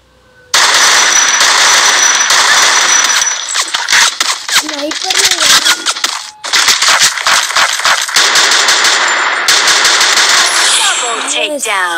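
Guns fire in the mobile shooter Free Fire Max in loud, dense rapid bursts with short gaps and single shots, close and continuous across the whole stretch, with game effects mixed in.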